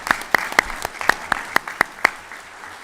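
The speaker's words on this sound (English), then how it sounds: "It's definitely applause worthy." At a city board of mayor and aldermen meeting, a small group claps in the chamber, with about eight distinct, evenly spaced sharp claps standing out over a soft, scattered patter.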